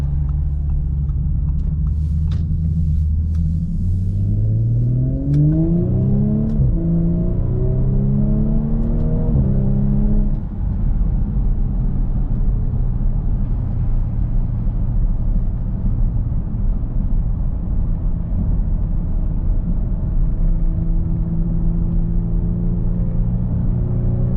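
A 2019 Audi S5 Sportback's engine revving while driving, a close, loud rumbling drone that rises and falls through the revs, then settles into a steady cruising hum with road noise.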